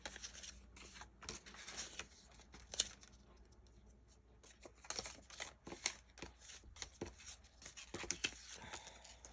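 Scissors cutting scrap paper for journal page flips at a craft table, a run of close, crisp snips and rustles spread through the clip with short quiet gaps, no one talking.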